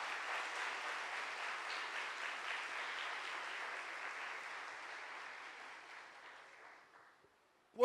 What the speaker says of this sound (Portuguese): eu queria que você aplaudisse a Ele.